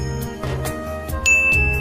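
A phone message notification sounds once as a short, clear ding. Music with a steady beat plays over it, and no voices are heard.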